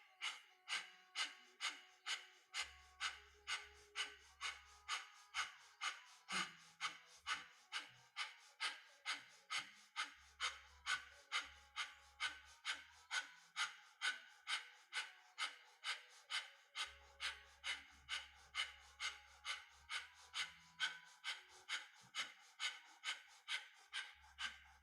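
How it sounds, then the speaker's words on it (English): Rapid kundalini yoga breath of fire, quick forceful nasal exhalations pulsing in a steady, even rhythm about twice per second, close and continuous throughout with no talking. "Begin breath of fire."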